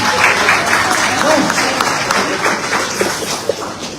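An audience at a university graduates' recognition ceremony applauds steadily, a dense wash of many hands clapping that stays fairly loud and even throughout, with a voice briefly audible above it.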